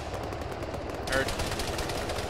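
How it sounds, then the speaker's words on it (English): Autocannon fire in a military video game: a sudden burst of rapid, loud repeated shots that starts partway through and runs to the end over a background of game ambience. "That autocannon is directly northwest."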